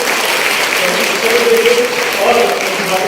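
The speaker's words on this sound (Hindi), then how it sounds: "तो इस बात पे जोरदार तालियां" A crowd at an Independence Day celebration claps loudly and continuously, a dense burst of applause that holds steady throughout.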